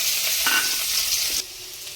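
Spices and onion frying in oil in a pan while being stirred, a steady close sizzle with scraping strokes that drops noticeably quieter near the end.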